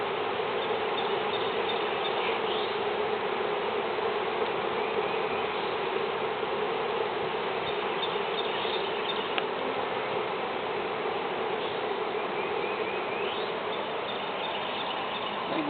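A honey bee swarm buzzes around a clogged hive entrance, a dense, steady drone that holds constant throughout with no pauses, close and moderately loud, with no voices.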